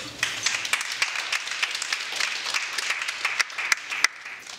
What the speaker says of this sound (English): we just want to give them a round of applause for coming out